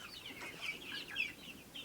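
Young chickens including a young rooster cluck and chirp softly in a coop, a continuous scattered chatter of several birds at close range and low volume.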